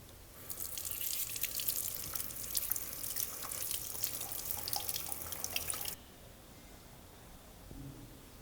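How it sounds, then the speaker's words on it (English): Pure water rinses a homemade printed circuit board, a faint, close hiss of running and splashing water that stops abruptly partway through, leaving near silence. "clean the board using the pure water."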